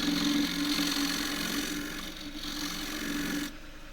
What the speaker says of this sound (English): Going to do that with the skewed scraper.